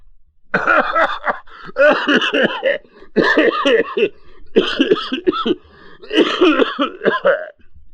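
A man coughs in repeated harsh fits, five or six bursts separated by short pauses, close and loud.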